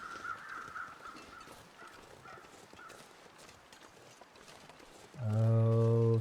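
Crows cawing in the survival game The Long Dark: faint, scattered caws over a steady windy wilderness ambience, ending with a sudden loud sustained tone.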